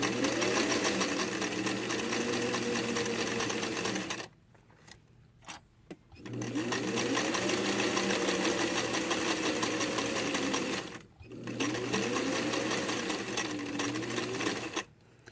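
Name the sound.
sewing machine sewing a dart in fabric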